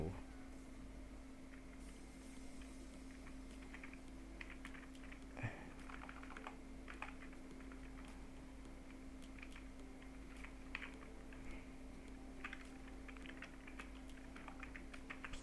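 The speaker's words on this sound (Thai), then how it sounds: "เดี๋ยวผมก็จะพิมพ์มา" Typing on a computer keyboard sounds as scattered bursts of soft clicks over a steady low electrical hum, with no speech, while the screen is being set up to upload content.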